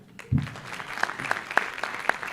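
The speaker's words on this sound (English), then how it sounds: "One more applause." Light, scattered applause from a conference audience in South Africa, starting with a thump and then separate sharp claps ringing out one by one, fairly quiet and sparse.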